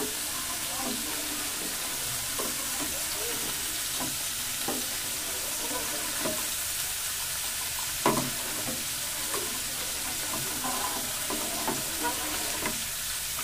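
Firni mix stirred into a pot of milk, a spoon scraping and swishing continuously with soft knocks against the pot, fairly quiet and close, with a faint bubbling background.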